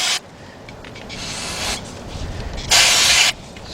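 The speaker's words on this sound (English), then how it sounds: "I'm using carburetor cleaner" Bursts of carburetor cleaner sprayed onto front brake parts of a Ford truck during a brake pad replacement: a long hissing spray, a pause with quieter hiss, then a second short, louder blast.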